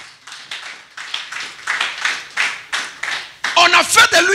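A church congregation claps in a steady rhythmic beat, about two claps per second, loud and close, before voices break in at the end.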